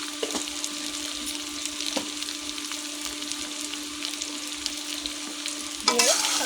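Fish masala with chili powder stirred and fried in a pan, a steady sizzle broken by occasional spoon knocks, with a louder burst of sizzling near the end and no speech.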